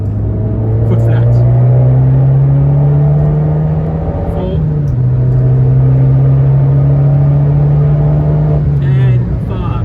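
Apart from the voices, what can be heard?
Abarth 595 engine accelerating at full throttle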